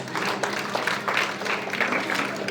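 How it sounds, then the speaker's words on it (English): A short burst of clapping from a small group at a school captains' honouring ceremony, a few seconds of scattered, uneven applause. "Clap for Rojin."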